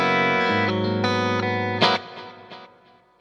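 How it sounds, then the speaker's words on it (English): Electric guitar through a stereo ping-pong delay pedal, sustained distorted chords and notes with repeats bouncing and trailing away, washed in reverb and chorus. "So it's kind of panning, ping-ponging right,"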